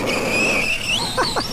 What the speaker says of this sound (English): give it like a little half throttle blip to get it going, and then about a quarter throttle to keep it on the wheelie